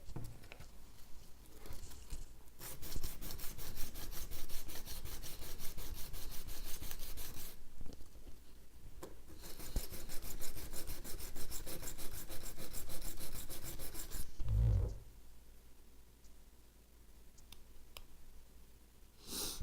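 A file or abrasive rasps along the edge of a Fiber Glider Zero-G stand to remove a burr, in two long bursts of steady rapid scraping strokes. Quieter gaps separate them and the scraping stops near the end.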